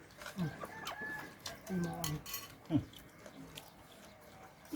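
Chickens cluck in short, scattered calls at close range, several brief bursts over a few seconds in a quiet outdoor setting with background noise.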